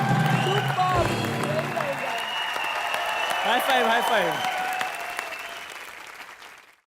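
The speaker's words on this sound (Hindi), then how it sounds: "एक बार मुबीन के लिए जोरदार तालियां हो जाए" A studio audience on a Hindi television entertainment show breaks into loud, sustained applause for a contestant, dense clapping that tapers off toward the end while voices speak over it.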